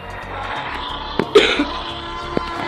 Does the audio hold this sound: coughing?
yes